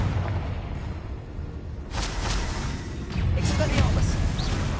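Confringo blasting spell detonating in a Harry Potter video game, a couple of broad rumbling bursts swelling over steady game noise and background voices.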